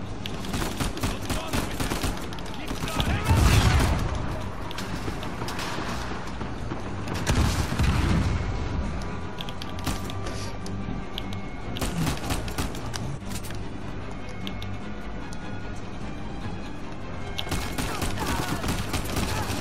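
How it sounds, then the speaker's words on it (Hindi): Explosions and bursts of gunfire in the Uncharted 4 video game, with heavy booms and rapid crackling shots in repeated waves over a busy game soundtrack, as a voice talks at times. "धमाका हो गया एक और धमाका"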